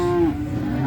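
A single loud cow moo at the Jetis cattle market in Ponorogo, East Java, a sustained low call lasting under a second with a slight pitch drop midway, with market noise underneath.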